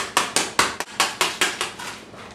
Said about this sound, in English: So just use a scraper and a hammer and just chip it off.